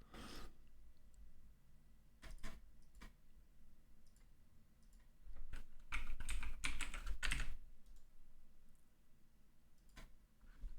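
Rapid, dense bursts of computer keyboard typing, close and fairly loud, clustering into heavy flurries midway with brief pauses between runs, no talking.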